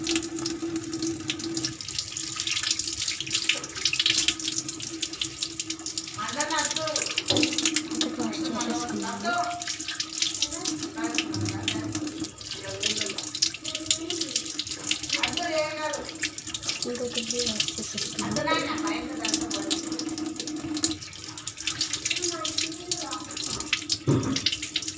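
Tap water runs steadily into a kitchen sink while small mangoes are washed, the flow breaking and splashing as the fruit is turned under it; a voice is faint beneath.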